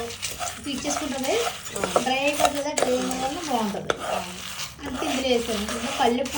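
Coriander seeds frying in a pan for powder while a utensil stirs and scrapes against the metal in repeated strokes, under a soft sizzle with voices talking nearby.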